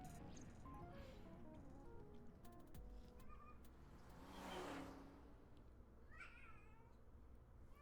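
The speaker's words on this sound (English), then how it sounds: "And now Phoebe is meowing." A cat meows repeatedly in the video game AI Somnium Files, short rising calls over quiet game background sound, with one brief louder noise midway.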